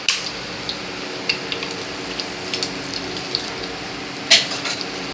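Butter hitting a hot pan while cooking fish curry, a soft steady sizzle with scattered pops and crackles, one sharper spatter near the end, close and fairly quiet.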